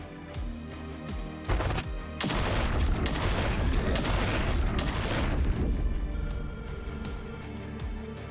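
Explosions and battle sounds in the video game The Last Spell: a sudden heavy blast opens into a dense, sustained barrage of booms and crackling impacts lasting several seconds, then fading to a softer rumble.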